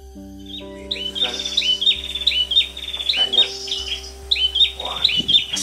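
Ashy tailorbird singing in the wild: short, repeated, rhythmic chirping phrases, loud for a small bird, close and clear over a steady low background hum.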